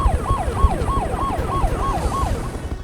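A wailing ambulance siren rising and falling in a fast, regular yelp pattern at moderate loudness over low rumbling vehicle noise.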